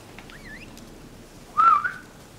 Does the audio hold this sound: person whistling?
yes